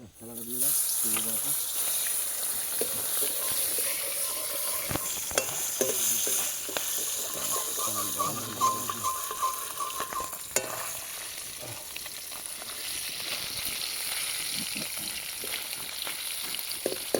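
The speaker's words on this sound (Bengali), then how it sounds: "তেলটা গরম হয়ে গেছে আমাদের এইবার দিচ্ছি মাছ ভাজা" Fish frying in hot oil crackles and hisses steadily for the whole stretch, loud and close, with stirring scrapes and clatter. A person talks intermittently over the sizzle.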